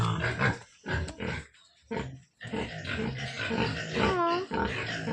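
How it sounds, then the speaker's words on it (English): Piglets and a sow in a pig pen give repeated grunts and squeals in short bursts, close and fairly loud, including one rising squeal near the end. "Now let's go see the mama pig."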